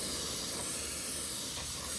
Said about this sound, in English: Let that finish spraying right there.